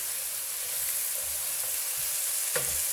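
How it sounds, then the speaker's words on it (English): Onions sauté in olive oil in a pan, producing a steady close sizzle with occasional soft stirring scrapes and one brief clink near the end. "Then I'm going to drop my onions in here. We're going to saute them."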